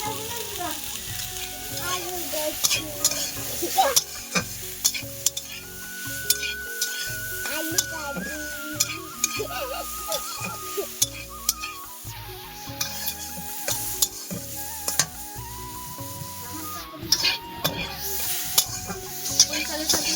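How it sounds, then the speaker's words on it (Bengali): Taro pieces frying in a kadai with salt and turmeric, sticking to the pan, a continuous sizzle broken by repeated scraping stirs and clinks of the spatula, with a voice faintly in the background. "কচু একটু ভাজা ভাজা হয়ে গেছে, আর দেখুন কড়ার মধ্যে লেগে যাচ্ছে কচুটা।"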